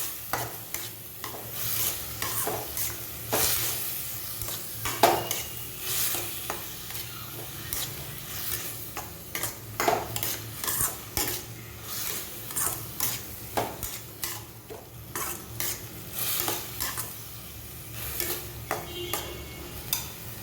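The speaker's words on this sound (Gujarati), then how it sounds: "ટામેટું આપણું પોચું પડે ત્યાં સુધી આપણે આને ચડવા દઈશું." Masala pav mixture with tomato cooks in a pan, a soft steady sizzle broken by repeated scraping stirs of a spoon against the metal, close by and with no voices.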